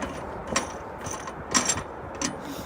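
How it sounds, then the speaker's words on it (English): Wing nuts being loosened on a tank trailer during a preload inspection: three brief, close metallic ratcheting clicks, spaced about a second apart, over steady background hiss. "You loosen up your wing nuts."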